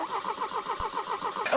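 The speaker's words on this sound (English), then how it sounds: "Even the sound of the engine communicates to him." A car engine cranking over with a rapid, even pulsing from the starter, close and moderately loud, catching at the very end.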